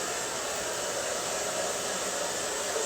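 A blow dryer runs steadily and loudly throughout, drying a freshly applied layer on a craft piece, a constant whooshing hiss with no talking.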